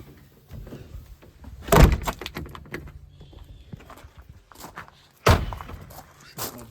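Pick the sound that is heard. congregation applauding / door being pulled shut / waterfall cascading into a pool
door being pulled shut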